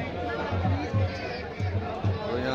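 Large crowd of visitors gathered at a dargah, a dense murmur of overlapping voices and chatter with footsteps and movement, fairly close and continuous throughout.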